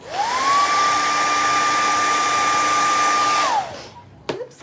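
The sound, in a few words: blow dryer drying paint on craft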